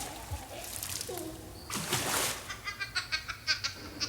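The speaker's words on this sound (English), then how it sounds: "And at that point, I noticed there was splashing." Water splashes and sloshes in a pool in a short burst, followed by a series of lighter rhythmic splashes, with faint background sounds.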